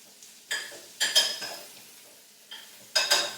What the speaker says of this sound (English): stir these prawns